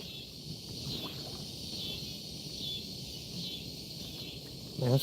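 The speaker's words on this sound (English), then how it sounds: "Man, cicadas are loud tonight." Cicadas drone at night beside the water, a constant high buzzing chorus that holds steady at moderate distance, with faint lapping and a brief rustle near the end.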